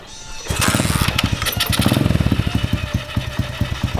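A small Polini 110 pit bike engine catches and starts, then runs with a rapid, loud, regular putter that keeps going close by.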